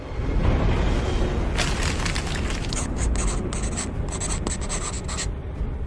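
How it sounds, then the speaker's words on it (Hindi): Paper rustles and scrapes on a table as a sound effect in a Hindi horror story, a brief scratchy rub that builds into quick, crisp crinkles close by. "टेबल पर रखे कागज की आवाज हुई।"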